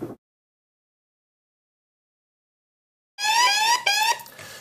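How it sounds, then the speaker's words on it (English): A Rave Guardian safety app alarm sounds after near silence, a loud, close electronic warbling tone with rapidly sweeping pitch that starts abruptly and continues to the end. "we have received an alarm through the Rave Guardian with the information we need to respond"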